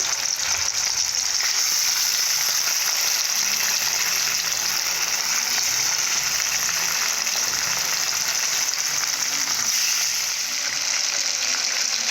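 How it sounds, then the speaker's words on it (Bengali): Pieces of fish frying in hot oil, a loud continuous sizzle and crackle that stays steady throughout with no talking. "আমি মাছগুলো ভেজে নেব"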